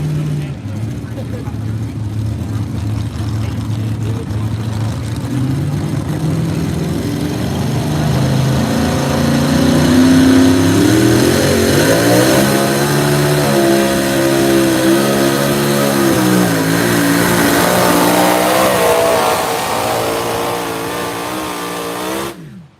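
A race vehicle engine at a Southern Showdown night event in Miller's Tavern, Virginia, revving hard at full throttle, the pitch climbing and wavering as it holds a loud sustained roar for about twenty seconds, close and dominant.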